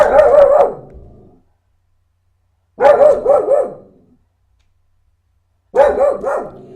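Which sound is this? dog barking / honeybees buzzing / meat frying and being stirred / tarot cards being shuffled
dog barking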